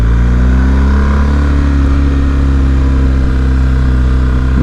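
A BMW R 1250 GS motorcycle engine runs loud and close, its steady mid-pitched drone shifting in tone as the rider clutches from first into second gear, with no talking.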